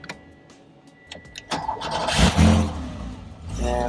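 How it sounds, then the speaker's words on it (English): A vintage Porsche 911 in neutral cranks with a few mechanical clicks and whirs, then catches and fires into a loud, rough idle. It is close and builds from near-quiet to a steady running rumble. "All right, I'm doing my first startup here with the AC."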